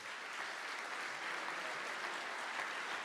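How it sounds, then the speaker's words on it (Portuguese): Steady, dense applause from a church congregation, continuous clapping filling the whole stretch with no voices on top. "As palmas são para Jesus."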